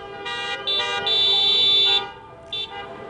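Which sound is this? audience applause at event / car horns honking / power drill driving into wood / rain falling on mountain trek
car horns honking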